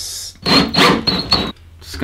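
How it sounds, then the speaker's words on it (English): A drill bores a hole through the side of a tin can, giving a few short whirring, rasping bursts close up with brief gaps between them. "Going to drill a hole on the side."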